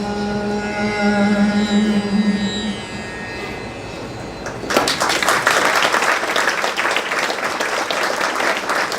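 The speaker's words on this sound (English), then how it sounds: "Another round of applause for all the artists who came here" An audience at a memorial program claps for performing artists: after a quieter stretch with a sustained tone, a loud, dense burst of many hands clapping bursts in and continues to the end.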